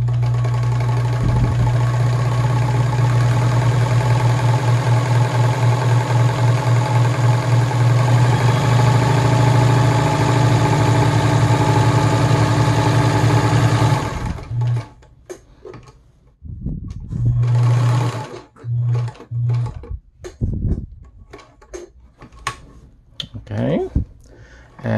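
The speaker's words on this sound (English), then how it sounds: "Let's move on to the other built-in stitch, which is the serpentine stitch." A Gritzner VZ (Kenmore 117.740) sewing machine sews a serpentine stitch with a loud, steady motor hum and fast needle clatter for about fourteen seconds, then stops and restarts in short bursts.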